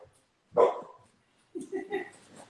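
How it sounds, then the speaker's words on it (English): A dog barks indoors, one sharp close bark followed by a short run of softer yips and whimpering barks, with no one talking over it. "there's the dog. She's just barking away"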